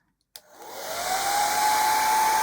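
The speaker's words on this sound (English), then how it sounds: "then you're going to need the hairdryer. This could get noisy." A hair dryer switches on with a click and rises into a loud, steady whooshing roar with a constant whine, continuing alone.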